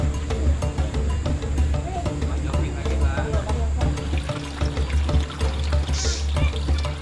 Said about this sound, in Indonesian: Sepertinya air yang keluar dari perasan sudah mulai jernih.